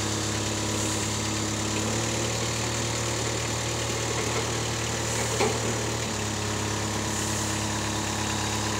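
A Moffett F11 rough terrain forklift engine runs at a steady idle, a constant low droning hum with a slight shift in pitch partway through, close and continuous with no talk.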